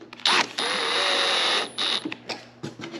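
A drill drives 5/8 screws into Richelieu or Blum drawer slides: a close, steady motor whir lasting over a second, then short whirring bursts and clicks of the bit and screw.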